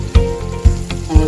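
Chopped shallots frying in oil for a spicy plum dipping sauce make a loud, close sizzle broken by three evenly spaced thumps of stirring, with no voices.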